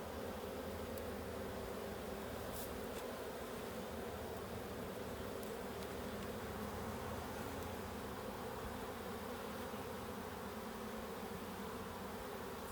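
Dense, steady buzzing of many honey bees swarming around an open beehive, a continuous close drone with no talk.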